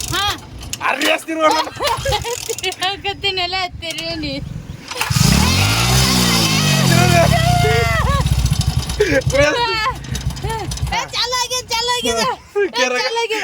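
A motorcycle engine starts and revs as the throttle is twisted during a riding lesson, a loud rising and falling roar through the middle, with people talking before and after.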